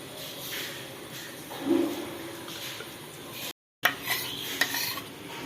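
Milk at a boil on the stove being stirred with a spoon in a pot as a beaten egg and flour mixture goes in for homemade ice cream, soft scraping and clinking of utensil against the pan with a light sizzle, brief gap midway.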